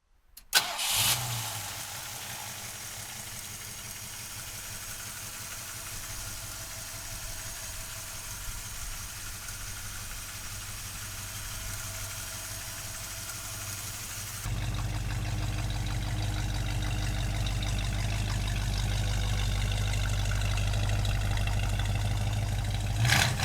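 A black Ford Mustang engine cranks and catches, then settles into a steady idle that grows fuller and louder partway through and holds a low, even rumble to the end.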